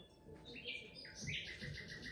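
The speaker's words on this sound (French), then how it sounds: "C'est ouf, les oiseaux. Vous entendez ça?" Several birds chirp and sing in the evening, bright overlapping calls carrying over a low background rumble, fairly close and steady throughout.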